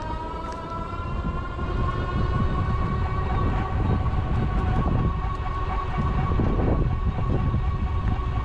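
Train running near an express train station on a quiet road with few houses, heard as a steady rumble with a sustained horn-like tone, continuous and fairly loud throughout.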